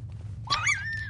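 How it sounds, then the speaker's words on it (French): A small dog in the horror video game Pacify gives a short, thin whimpering yelp that rises and then holds a steady high whine for about half a second, over a low continuous background hum. "Petit chien."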